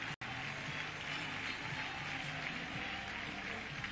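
A small but enthusiastic baseball crowd at a late-night Cubs at Mets game applauds pitcher Jorge Sosa, a steady, moderately distant wash of clapping.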